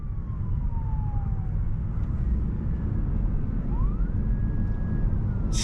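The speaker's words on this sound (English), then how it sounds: "definitely, I hear sirens, but I just don't know if they're on our side of the road" Faint emergency vehicle sirens wail on the road ahead, rising and falling far off over the loud, steady road rumble inside a Tesla on a late-night drive.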